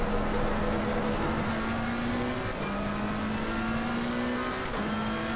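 A GT race car engine in the racing game Assetto Corsa Competizione, a loud, steady droning whine that rises in pitch through each gear and drops at two upshifts, heard alone.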